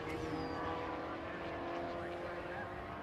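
An MGB race car circuits the track during a vintage race, its engine a steady, continuous drone heard from a distance, with a faint whine riding above it.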